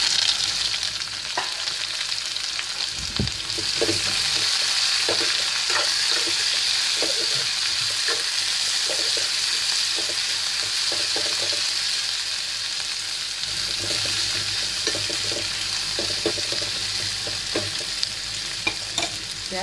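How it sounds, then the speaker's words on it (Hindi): Onions fry in a pan for a green chilli gravy, with a loud, steady sizzle throughout and repeated scraping and clinking from stirring close up. "प्याज को लाल होने देंगे।"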